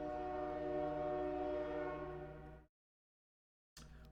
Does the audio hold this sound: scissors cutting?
no